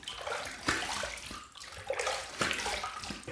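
Tap water runs steadily to rinse a razor after a shave, a continuous splashing stream with brief surges as the blade passes under it, close and fairly loud with no talking.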